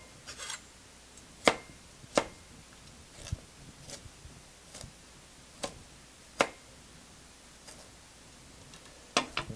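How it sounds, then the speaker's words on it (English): A knife trims the ends off vegetables on a cutting board, giving sharp, isolated chops spaced irregularly a second or so apart, close and crisp against a quiet background with no talking. "So I'm just going to cut off the ends."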